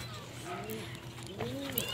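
Racing pigeons coo softly in a loft at a race arrival, low rolling calls repeating over a quiet background with faint ambient noise.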